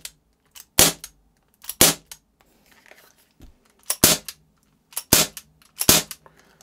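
Umarex S&W Model 29 CO2 airgun revolver fired double action: five sharp, loud cracks spaced about a second apart, close and alone with no talking.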